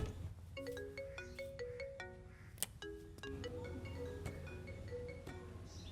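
A mobile phone ringtone plays a melodic, repeating pattern of bright chime-like notes at steady volume over a low background hum, in a Malayalam film scene.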